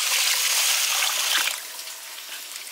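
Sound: washing long-grain rice in water for pulao

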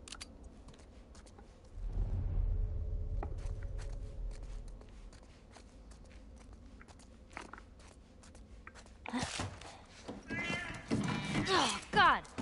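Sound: cat meowing, from video game The Last of Us Part I

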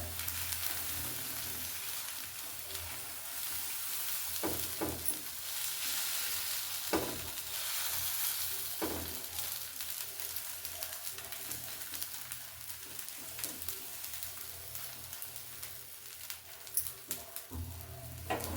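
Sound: onion carrot dosa batter sizzling on hot pan

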